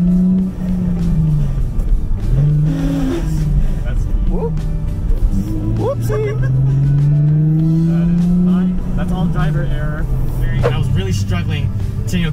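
A manual-swapped Infiniti G35 sedan with an aggressive three-stage clutch drives along, its engine rising and falling through gear changes, loud and close inside the cabin, with someone talking over it throughout.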